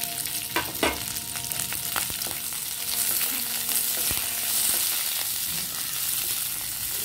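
Onion and green chilli pieces frying in oil for chilli paneer, a continuous moderate sizzle with scattered clinks and scrapes of stirring, close and without voices.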